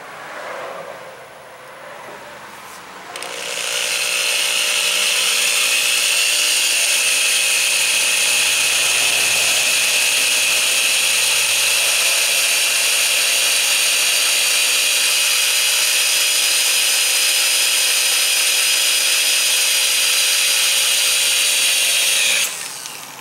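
A power drill with a number 29 bit boring into the metal of a 330 Conibear trap, with a steady high whine that starts after a few seconds and holds unbroken for about twenty seconds.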